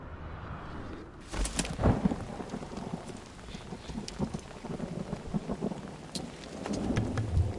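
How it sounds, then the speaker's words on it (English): Heavy rain pours steadily while several thunder rumbles and cracks break through, the loudest near the start and others rolling in the distance, with no voices. "It's this real heavy rain we got going on here, isn't it?"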